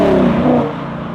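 A car engine fitted with a Varex muffler pulls hard and loud up close, its rising tone sweeping upward briefly before easing off, no voices over it.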